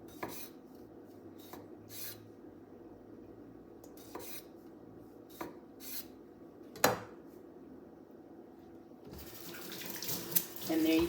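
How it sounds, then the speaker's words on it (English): Cherry tomatoes get a quick rinse under a running kitchen tap, with intermittent bursts of water splashing and rubbing, then a fuller, steadier flow toward the end. "I have a couple of cherry tomatoes here. Give them a quick rinse."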